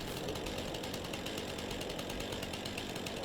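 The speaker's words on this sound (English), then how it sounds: "And I've tried angling the chainsaw at certain angles, maybe pick it up, but it just doesn't." Chainsaw cutting into a tree stump in the farming game Farming Simulator 22, a steady, loud, continuous buzzing drone with a rattling motor texture and no pauses.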